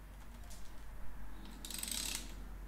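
A ratchet with a 10 mm socket works loose the rebound adjuster bolts on an upturned 2019 Fox 36 mountain bike fork, giving a short burst of fairly faint, rapid clicking with no talk over it.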